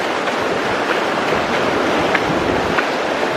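Floodwater of the Skookumchuck River rushes along Pearl Street in Centralia, Washington, during a January flood, a steady, loud broadband roar of churning water that holds constant throughout with no voices.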